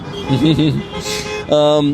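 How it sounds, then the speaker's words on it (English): Several car horns honk on a street in Kyiv, Ukraine, a long steady blast rising near the end after shorter wavering tones, with voices talking throughout. "Like this with my hand to ask them to honk."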